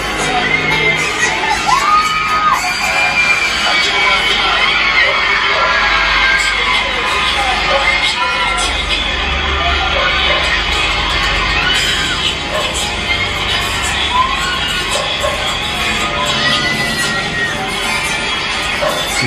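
A dense, loud crowd at a concert appearance at the APAC Predator League 2024 cheers and screams continuously throughout, with shrill shouts and whoops rising over a steady roar.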